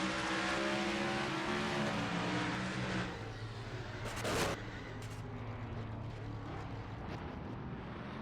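The 42 race car of Cal Weathers at Bristol Motor Speedway night race, a steady loud in-car engine drone that shifts pitch around the third second, with a brief harsh burst a little later.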